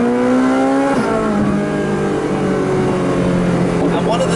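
A fast sports car doing 0 to 100 km/h in about 3 seconds, with paddle shifters, its engine revving loud and close with a noisy turbo whine over the roar, pitch sliding as it accelerates and shifts, continuous for about four seconds without talk.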